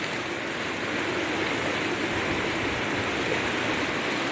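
A stream running beside a river, a dense, steady rush of flowing water that stays loud and unbroken throughout.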